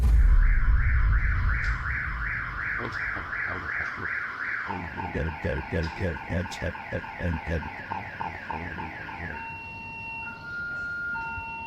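A house alarm set off by a moving wheelchair sounds close and loud, cycling through rapid warbling tones, then a pulsing chirp pattern, then steady beeps, with no talking.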